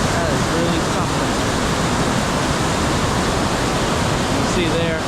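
Valley Falls waterfall at Valley Falls State Park, with the Tiger River above, roars as a loud, dense, continuous rush of water that fills the whole clip, close and steady, with faint speech buried beneath it.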